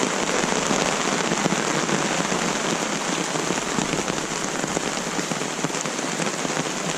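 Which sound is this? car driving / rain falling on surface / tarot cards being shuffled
rain falling on surface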